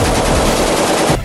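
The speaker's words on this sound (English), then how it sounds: "Shooting the M60." An M60 machine gun fires a loud, continuous burst of rapid automatic shots close by, sustained for over a second before cutting off abruptly, with no talking.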